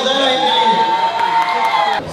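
A crowd cheers and whoops loudly for a special guest on a trip to Rohtak, the sustained roar of voices filling the scene before cutting off abruptly near the end.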